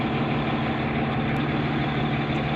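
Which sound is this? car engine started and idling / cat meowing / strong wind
car engine started and idling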